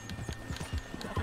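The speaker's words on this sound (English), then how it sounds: "Horse agitated by a predator." Horse in Red Dead Redemption 2, agitated by a predator, with rhythmic hoof clip-clops and a brief whinny, fairly close and moderately loud.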